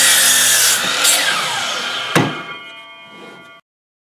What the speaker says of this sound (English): I'm going to get this cut up on the miter saw